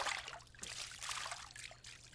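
Water trickles faintly and steadily, a soft continuous dribble with small splashy bursts, heard close and alone without talk.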